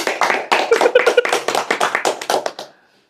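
An audience claps at a religious lecture, a lively run of quick, uneven handclaps that keeps going for a couple of seconds and then stops abruptly, leaving silence.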